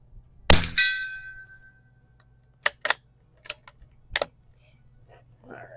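Rifle shots striking a steel gong target: one sharp metallic clang ringing out, followed by several shorter, quieter impacts spaced a second or so apart, with faint outdoor background.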